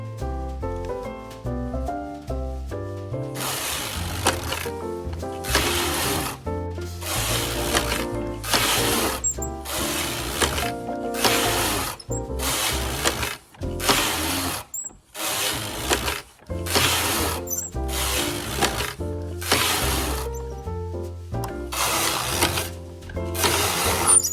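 A sock knitting machine runs in a close, loud, steady mechanical rhythm of repeated clattering strokes, broken by a few brief pauses while it turns out knitted tubes.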